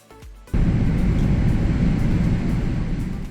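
A Boeing 777 at Heathrow, London, begins pushback, and a sudden broad cabin rumble comes in after a brief quieter start, then holds steady and loud before easing slightly.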